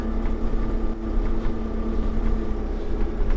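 A Kubota M4N-071 narrow vineyard and orchard tractor runs in a parking lot, its diesel engine a steady close drone with a constant hum as it is put in gear and pulls forward, with no talk.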